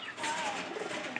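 Pigeons cooing at a pigeon loft during pairing, a soft continuous murmur of coos with a brief higher chirp near the end, moderately near and steady, with no voices.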